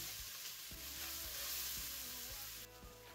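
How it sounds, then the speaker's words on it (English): Garlic sautéing in a beef stew pot, a steady soft sizzle with occasional stirring scrapes against the pot bottom, quiet and close with no talk. "add garlic and saute for about 30 seconds or so."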